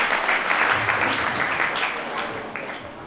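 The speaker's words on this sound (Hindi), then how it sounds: "एक बार 4 तालियों से स्वागत करते हैं" An audience at an Arya youth council foundation day gathering applauds to welcome guests, a dense sustained round of clapping that fades slightly toward the end.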